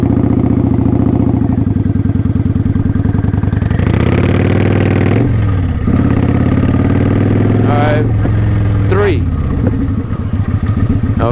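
A motorcycle during slow parking practice, its engine close and loud as it idles in a steady putter, then rises through a few brief revs, with someone talking over it in places.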